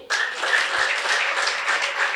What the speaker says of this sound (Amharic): እስኪ እኔ ነኝ የሚል ሰው ጭብጨባ አስገባ